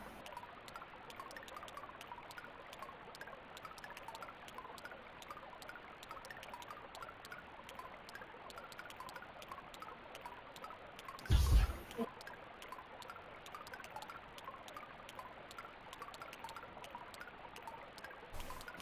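Steady trickling, pouring stream of a flowing blood river in the SNES game Rudra no Hihou, continuous and moderately quiet throughout, with a brief louder burst near the middle.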